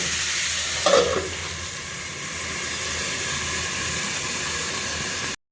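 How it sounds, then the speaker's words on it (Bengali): Eggplant curry bubbling in a pan on a village stove, a steady broadband hiss of simmering with a brief louder stir or splash near the start. "আর এদিকে বেগুনের ঝোল ফুটে উঠেছে"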